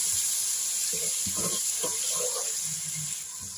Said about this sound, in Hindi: थोड़ा सा हम डालेंगे पानी